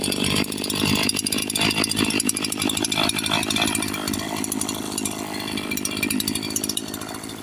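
A CS-4910 chainsaw with stage 1 tuning and its muffler restrictor removed runs loud and close, a raspy high-pitched two-stroke whine held steady with slight revving throughout.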